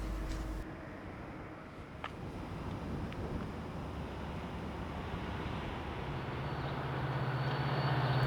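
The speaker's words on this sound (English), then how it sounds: "The train moving out of the yard waits for clearance before he can continue his trip." A train rolls out of the Selkirk rail yard south of Albany, New York, with a steady, broad mechanical rumble that swells slightly toward the end. No one speaks.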